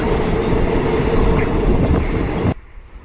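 A Thai local train rumbles loudly and steadily at close range with a continuous rolling roar, cutting off abruptly near the end to a much quieter background.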